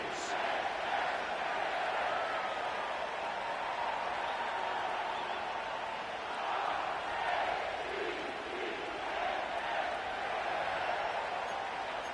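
A football crowd of 70,000-plus fills M&T Bank Stadium in Baltimore, home of the Ravens, in an EA Sports game, its steady distant roar and murmur swelling slightly at moments.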